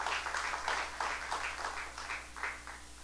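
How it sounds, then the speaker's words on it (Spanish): A church congregation applauds the Lord during a Spanish-language sermon, a steady run of hand claps at moderate level with no talk over it. "Démosle un aplauso al Señor"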